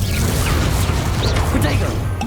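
A fire spell, Incendio, cast during Hogwarts Legacy gameplay: a dense, roaring burst of flame with whooshing sweeps and heavy low-end rumble, steady and loud for the whole moment, likely with a voice mixed in.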